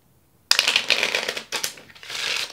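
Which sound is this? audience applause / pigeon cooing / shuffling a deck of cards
shuffling a deck of cards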